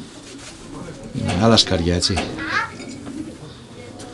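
Pigeons at a pigeon festival in Siatista, Greece coo softly in the background while someone speaks over them in the foreground.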